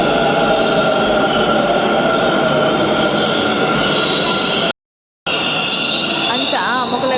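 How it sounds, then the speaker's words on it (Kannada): A metro train pulls into a station, with a loud continuous rumble and roar of wheels on rails and a rising squeal of braking near the end, broken by a brief gap of silence. "ಒಂಚು ಮೆಟ್ರೋ ಬೋಂದುಂಡು"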